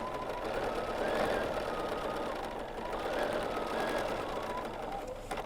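A sewing machine hums and chatters steadily during free-motion quilting, a close, continuous rapid stitching whir that swells slightly as speed changes.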